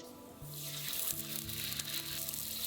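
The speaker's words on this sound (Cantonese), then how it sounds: "即係炸雞咁、炸乳鴿咁咯" Squab sizzling and crackling as it deep-fries in hot oil, a steady loud bubbling hiss with no talk, while low tones hum underneath.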